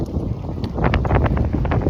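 Blustery wind buffeting a microphone, a steady low rumble with gusts that swell louder partway through, no voices.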